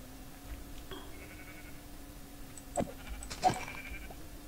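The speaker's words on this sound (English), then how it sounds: "Oh, there's another sheep." Sheep bleating in Minecraft, two short faint bleats near the end over a quiet steady hum, with no talk.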